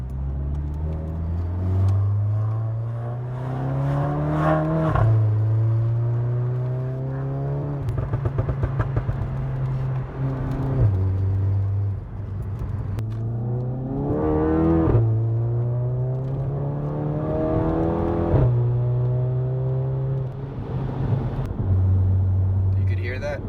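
VW GTI MK7 with a Performance Pro 1 catback exhaust in manual mode, its engine revving up repeatedly through gears in a deep, droning exhaust tone with pauses between pulls, while a person talks over it.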